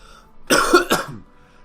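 A single person's cough, a short close rough burst with two quick pulses, in a quiet room.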